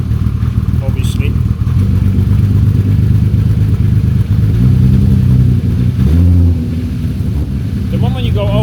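A turbocharged VR6 engine swapped into a Toyota MR2 idles roughly, then revs up and drops back several times. It is loud and close, and a voice talks over parts of it.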